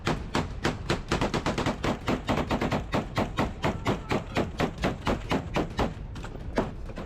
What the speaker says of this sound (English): Ukrainian forces immediately took up positions and returned fire, spreading out around the doorway. A short but intense firefight ensued.